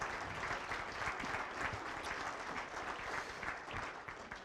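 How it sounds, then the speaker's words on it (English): An audience claps steadily at the Poudre River Forum, a dense, even wash of applause that holds for several seconds with no speech over it. "give them a round of applause once again for putting this day on"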